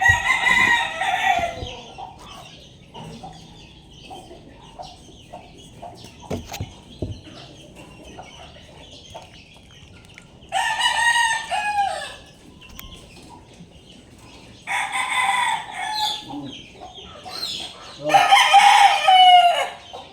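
Farmyard chickens and newly hatched chicks make sounds as a rooster crows loudly in several bursts, with scattered clucks and light knocks between calls.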